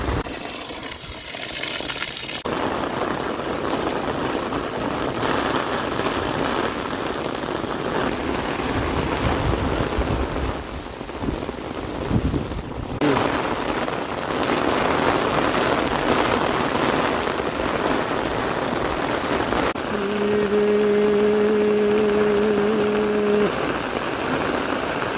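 Heavy monsoon rain pours down steadily in Banaskantha, a dense, loud wash of falling water that runs throughout without pause, with a brief low tonal hum near the end.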